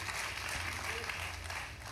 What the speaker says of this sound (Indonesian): kasih tepuk tangan yang luar biasa bagi Yesus Tuhan